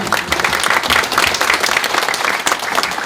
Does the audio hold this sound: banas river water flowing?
no